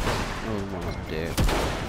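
Gunfire rattles in rapid, dense bursts in the shooter game Outriders, heard close and loud with someone talking over it.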